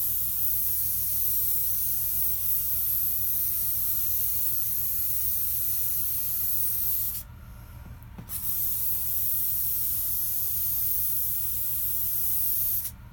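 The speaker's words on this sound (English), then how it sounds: "that's how you airbrush with the apple barrel paints" An airbrush sprays thinned Apple Barrel acrylic craft paint, a loud steady close hiss that cuts off briefly midway and then resumes until the end.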